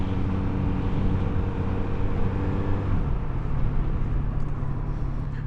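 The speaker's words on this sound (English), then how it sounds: "bike just definitely sounds amazing" Kawasaki Z900RS Cafe motorcycle engine on a ride over a rough road, a loud steady drone with wind rush that drops in pitch midway as the revs fall or the bike shifts gear.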